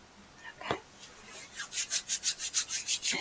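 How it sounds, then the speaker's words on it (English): Sticky honey is scooped and rubbed up close in a quiet room: a few soft scrapes at first, then a run of about ten rhythmic smearing strokes that swell and fade in steady succession. "I'm going to scoop up some more of this honey"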